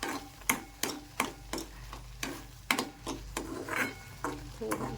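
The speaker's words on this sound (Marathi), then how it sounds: "पुन्हा एकदा चांगला प्रकारे हलवून घेऊ आपण" A spoon stirs thickening sweetened milk for kalakand in a pan, giving a quiet, irregular series of scraping and tapping strokes against the metal over a low steady hum.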